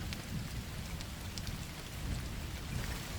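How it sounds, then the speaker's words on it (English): Heavy rain pours down steadily, a dense, loud hiss of drops hitting surfaces with no break. A low rumble runs underneath it. "The rain never stopped falling that night."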